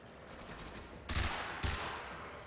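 Two bursts from the Dex Furis pistols in Warframe, each a short loud volley of rapid shots about half a second apart, over faint game ambience.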